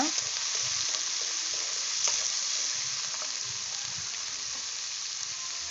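Large chopped onions fry in ghee for a Tamil-style chicken curry, a steady, close, dense sizzle with soft stirring scrapes throughout and no talk.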